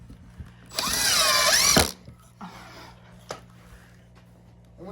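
A handheld power drill runs in forward, driving screws into wood in a home woodworking setting; one sustained loud whine of about a second rises and falls in pitch, followed by quieter clicks and knocks.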